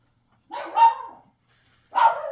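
Two short bursts of dog barking, close and loud, separated by a brief silence.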